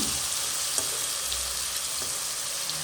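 Paneer frying gently in oil over a low flame, a continuous close hiss of sizzling with a few faint stirring scrapes underneath.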